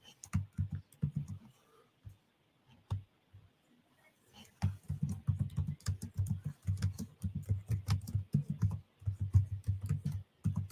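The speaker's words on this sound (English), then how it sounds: "I know y'all hear me typing." Rapid typing on a computer keyboard, close and crisp: a flurry of clicks, a short pause with scattered taps, then a long steady stretch of continuous keystrokes.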